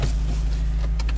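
A Honda Civic Type R EP3 engine cranks and catches, then settles into a steady low idle, close by.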